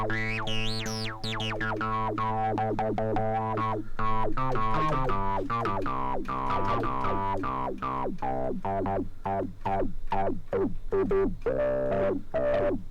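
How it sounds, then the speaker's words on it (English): A Roland SH-01A synthesizer plays a run of short, bouncy, gritty notes through an overdrive distortion effect, sharp and buzzy with sliding pitches in a quick, uneven sequence, loud and alone with no talk. "Overdrive, here we go. And it's got a distortion."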